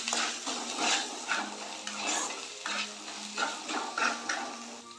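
Spices and sugar are sautéed in a pan, with a soft sizzle under repeated scraping strokes of a metal spoon and light clinks against the pan, fairly close and steady throughout.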